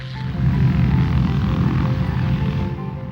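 Four-engine B-24 Liberator bomber in flight, a loud, steady propeller-engine drone with a deep throbbing hum that holds for the whole moment before easing slightly at the end.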